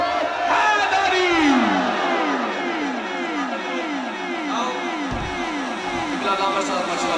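A mosque congregation at Jamia Masjid Zia-ul-Quran roars a religious slogan in unison, a loud, dense crowd shout answering a leader with rolling rhythmic waves of voices that sustain throughout.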